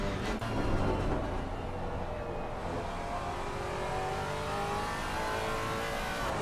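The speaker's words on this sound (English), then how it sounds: "I love the noise of the Maserati." A Maserati GT race car with a Ferrari V8 roars loudly and continuously at Donington Park, its pitch sweeping as it revs and accelerates close by.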